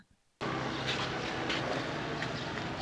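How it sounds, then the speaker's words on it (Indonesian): Kawasaki ZX25R motorcycle fitted with an Aero exhaust and DB killer, starting abruptly after a brief quiet moment into a loud, steady, raspy engine roar that holds close and constant. "gue udah pasang knalpot Aero. Ini masih menggunakan DB Killer ya."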